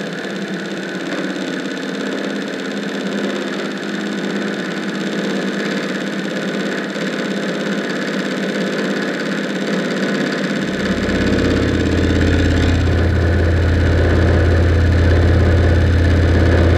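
A milling machine spins a 63mm five-insert Chinese face mill at 1000 RPM, a loud steady whir that deepens into a heavier droning roar as the cut begins, with no talking.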